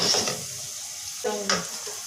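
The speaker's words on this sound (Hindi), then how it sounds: "फुल फ्लेम में फ्राई करूंगी" Chicken vegetable kachori frying in hot oil on full flame, a steady bubbling sizzle with a brief stirring scrape partway through, close and fairly loud with no talk.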